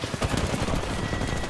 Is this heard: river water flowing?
no